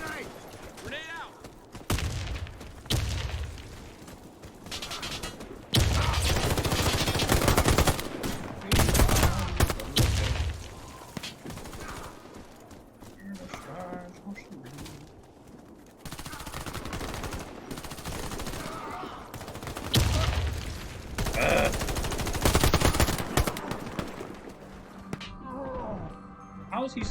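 Rapid bursts of automatic gunfire and heavy blasts in an online first-person shooter game, loud and repeated across the stretch, with a player talking excitedly over the action.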